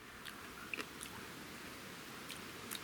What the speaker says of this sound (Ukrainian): То, що воно хрумчить